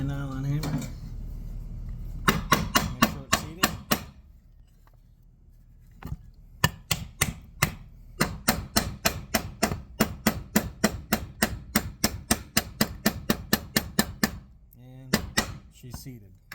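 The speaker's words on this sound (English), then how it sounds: "I'll give it a little bit of tap with my nylon hammer" Rapid series of sharp taps, a nylon hammer striking a crankshaft bearing on a Stihl 034 chainsaw in quick bursts with short pauses between runs, close and fairly loud.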